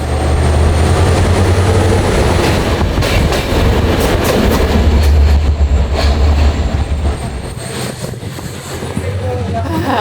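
Interior of a moving train from Bucharest to Veliko Tarnovo, a loud continuous rumble of wheels and carriage with rhythmic clatter and metallic squeals, dipping briefly before resuming.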